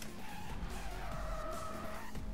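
Tires squealing under hard braking in Need for Speed World, a sustained skid over a steady engine roar, close and continuous throughout.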